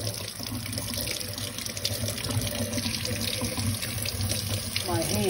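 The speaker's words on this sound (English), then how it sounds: "I need to rinse my hands." Water runs steadily from a kitchen tap while hands are rinsed, a continuous close splashing hiss with small shifts in flow.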